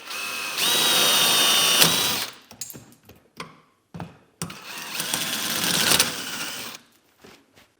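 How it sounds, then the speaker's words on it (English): A power drill whirs loudly in two sustained bursts, drilling out old, brittle resin from an axe handle, separated by a few seconds of clicks and light handling noises. "so I just drilled it a little bit"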